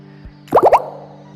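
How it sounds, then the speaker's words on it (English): A MIUI 10 phone notification plays a water droplet tone: three quick, bright bubbly plops in a row, clean and close, over a faint steady hum. "Receive notification with the sound of water droplets, and they mentioned that no two sounds are alike."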